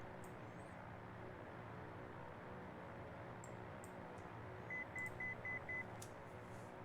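A short run of five rapid, even electronic beeps sounds from the cockpit of a Twin Comanche in the X-Plane 12 flight simulator, clear above a steady hum of engine and wind noise.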